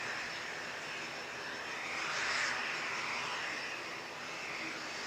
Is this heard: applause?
no